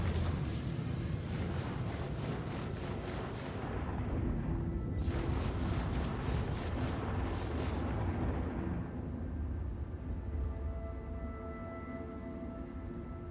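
A spaceship crashes and explodes in the Star Citizen video game, heard as a loud, sustained roaring rumble with repeated bursts of blast noise that fade into a lower, steady drone.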